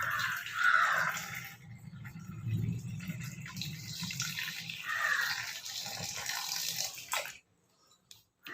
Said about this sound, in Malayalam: അപ്പോൾ ഞാൻ വെള്ളം ഒഴിക്കട്ടെ വെള്ളം ഒഴിക്കട്ടെ